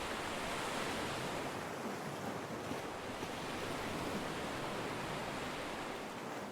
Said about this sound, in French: le bruit des vagues en fond